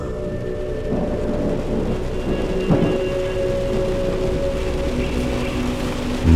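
Steady heavy rain with rumbling thunder, used as a sound effect in a horror audio story, hisses continuously while low thunder rolls beneath it; no one speaks.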